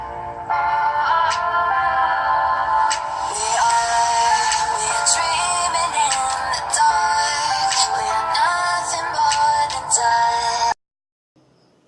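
A song plays through the small loudspeaker of a ZTE Zmax Pro phone, thin and bright with a busy melody and percussive taps, then cuts off abruptly near the end.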